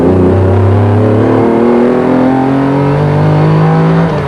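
A sports car with a 5.7-litre V12 tuned to 520 horsepower, on a lightened chassis, accelerates hard and loud, its engine note rising steadily through the gear with no voices over it.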